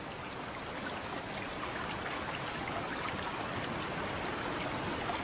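Water splashes and laps steadily at night as someone swims, a continuous soft wash of broadband noise with no voices during it.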